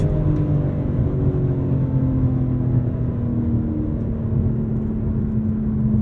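A BMW M4 CSL's engine pulls hard toward its 7,200 RPM red line, a loud, close, continuous drone whose rising harmonic whine climbs steadily under the cabin rumble, with no talking.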